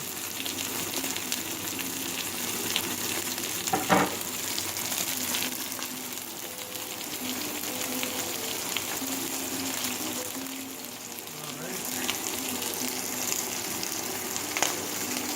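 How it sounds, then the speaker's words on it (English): Salmon pieces sear in a pan on medium-high heat, giving a steady, moderately loud sizzle and crackle with water-like hiss throughout, a few sharper pops and clatters standing out, and no talking over it. "Sear those pieces right there."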